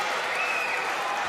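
Arena crowd at a judo world championship women's -63kg final clapping and cheering steadily throughout, a broad dense wash of applause with no distinct gaps, mid-distance and even in level.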